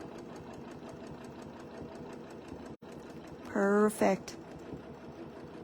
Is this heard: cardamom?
no